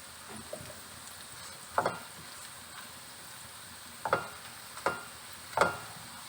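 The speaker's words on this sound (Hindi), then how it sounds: "इसे फ्राई करेंगे। प्याज ब्राउन होने वाली है।" Onions with garam masala fry quietly in a pan under a faint, low sizzle, broken by a few sharp scrapes and clinks of a spoon stirring against the pot.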